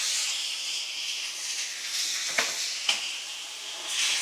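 Chicken with caramelized onions and tomatoes simmering in a pan on medium heat, a steady soft hiss and sizzle throughout with two brief clinks or taps partway through, close up and with no talk.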